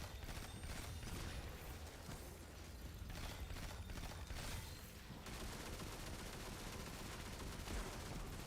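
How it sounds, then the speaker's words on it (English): A strand machine gun in the video game Destiny fires in a dense, continuous rapid burst that stays loud and unbroken throughout, with heavy gunfire texture and mechanical rattling layered over it. "that strand machine gun"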